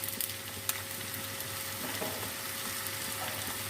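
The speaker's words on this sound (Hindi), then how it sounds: "आलू को भी प्याज के साथ ही फ्राई कर लेते हैं।" Sliced potatoes fry together with onions in a pan, producing a steady moderate sizzle with occasional sharp clinks of a utensil against the pan near the start.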